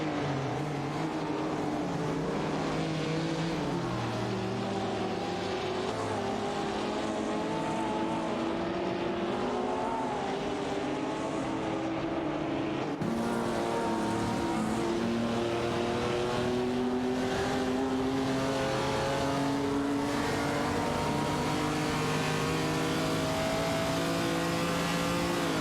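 Race cars in an AI racing video game rumble and whine continuously, engine tones rising and falling as several cars jostle for position close by, loud and steady throughout with no talking.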